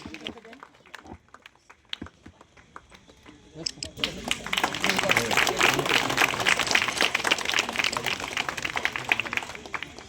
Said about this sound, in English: I request this big sound of applause should go into all the teachers